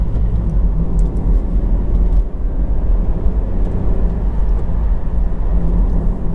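Road noise inside a 2011 Honda CR-Z 1.5 IMA Sport hatchback while driving, a steady loud low rumble from tyres and suspension with faint thumps as it passes over bumps, no talking.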